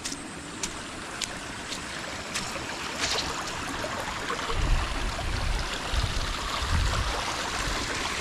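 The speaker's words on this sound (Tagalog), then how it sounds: "lakas ng tubig" Steady rushing water fills the scene, a broad continuous roar with some deeper surges toward the end, close and fairly loud.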